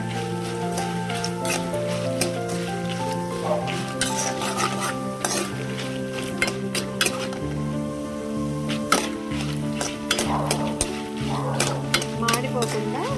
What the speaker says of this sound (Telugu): సిమ్లో పెట్టి నిదానంగా వేయించుకున్నామండి, మాడిపోవద్దు.